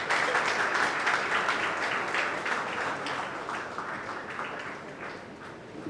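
Sustained audience applause fills a launch ceremony for the World Para Athletics Championships 2025 in New Delhi: dense, steady clapping from a large crowd that fades slightly toward the end.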